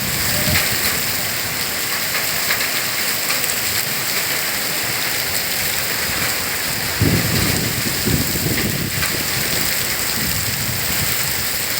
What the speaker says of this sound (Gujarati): આ વરસાદ પડે છે